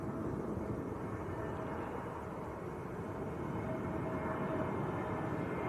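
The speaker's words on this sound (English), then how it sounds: "EasyJet from Geneva, A321neo." EasyJet Airbus A321neo airliner from Geneva at Manchester Airport, a steady broadband jet roar holding loud and even throughout, heard from outdoors without talk.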